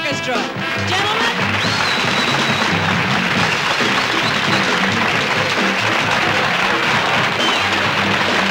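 A studio audience on a television variety show applauds the orchestra, loud, sustained clapping swelling in after a brief musical tail and filling the rest of the stretch.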